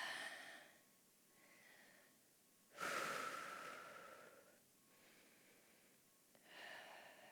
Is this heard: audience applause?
no